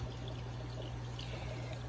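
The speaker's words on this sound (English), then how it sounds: "water flowing down, and then the sponge kind of brings it back around" Steady water trickling and splashing continuously from an aquarium filter spray bar, a close, even pouring sound with a low hum underneath.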